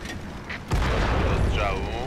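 A Valentine tank in World of Tanks fires its main gun with a single loud, heavy boom that rings out and rumbles on for over a second, after a moment of quiet speech.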